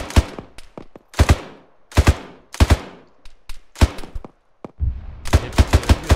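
Gunfire in the military shooter game Arma 3, loud close single shots and short bursts cracking out at irregular intervals, ending in a rapid volley.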